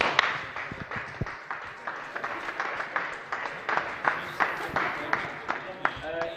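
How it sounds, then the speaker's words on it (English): A round of applause for the third-placed team at a racing championship awards: a dense, steady patter of many hands clapping, moderately loud and continuous, with voices mixed in. "So in third place for the teams, we please have a round of applause"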